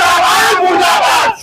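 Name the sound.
crowd chanting protest slogans at a candle march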